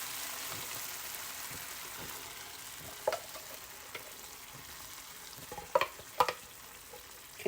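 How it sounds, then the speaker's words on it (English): Tomato sauce sizzles softly in a pan over low heat with faint stirring, and a few light utensil clinks stand out against the quiet background. "And I'm going to add my tomato sauce."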